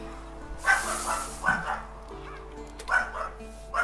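Dog barking in The Witcher 3: Wild Hunt, a few short yipping barks and whimpers spaced out over a low ambient drone, with someone talking intermittently.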